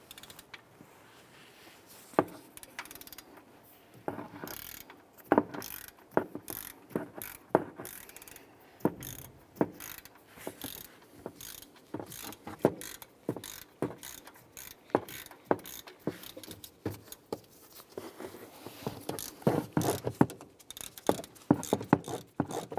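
Socket ratchet clicking in quick, irregular bursts while loosening an alternator bolt near the idler pulley on a 2011-2018 Ram 1500, close and fairly quiet with small metallic taps between the clicks.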